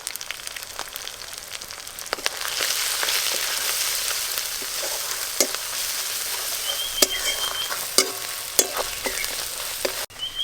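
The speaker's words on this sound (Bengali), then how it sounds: "আদা রসুন পেঁয়াজ ভালো করে ভাজা ভাজা হয়ে গেছে, এবার গুঁড়ো মশলা কিছু দেব।" Ginger, garlic and onion sizzle steadily in hot oil while being fried with ground spices in a pan, a continuous loud hiss broken by scattered spoon scrapes and clicks, close by and without speech.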